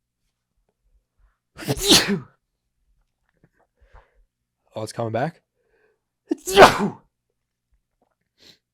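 A single sharp sneeze bursts out, followed a few seconds later by brief speech and then another short sharp exhalation, all close and in a quiet room.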